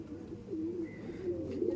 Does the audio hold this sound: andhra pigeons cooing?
yes